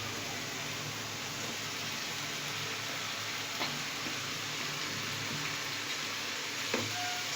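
Macaroni tossed into a pan of vegetables for a creamy vegetable macaroni, giving a steady, close sizzle with faint stirring scrapes throughout and no talking.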